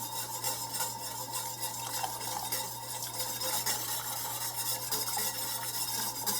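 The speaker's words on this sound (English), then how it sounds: "start stirring and add it a little bit at a time and keep stirring while you do it" Burgundy sauce being stirred steadily in a pot on the stove as cornstarch is added a little at a time, a continuous close scraping and swirling sound with no voices.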